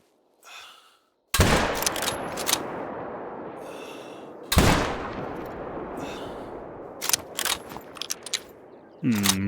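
Rifle shots at an animal in theHunter: Call of the Wild on the Te Awaroa map, two sharp loud cracks with echoing tails, followed by clicks and clatter of reloading and a brief metallic ring at the end.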